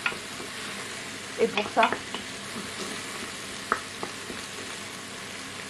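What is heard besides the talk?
lentils sautéing and being stirred in a pan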